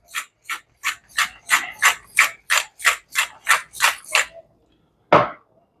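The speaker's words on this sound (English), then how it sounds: "I'm going to put a few grinds of fresh cracked pepper in that." Fresh black pepper is cracked from a hand grinder into a pot of baby lima beans with ham, about a dozen crisp rhythmic rasping grinds close up, then a pause and one final grind.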